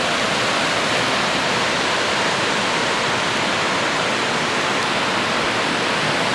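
Continuous, loud roaring rush of a waterfall near an abandoned waterworks in a ravine in Oregon during pouring rain, a steady broadband wash of water noise with no breaks or voices.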